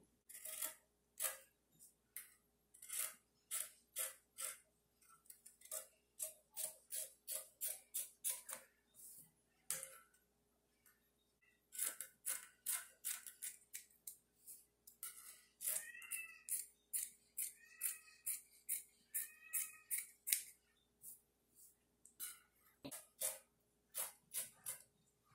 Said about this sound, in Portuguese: E agora você já recorta deixando a margem de costura.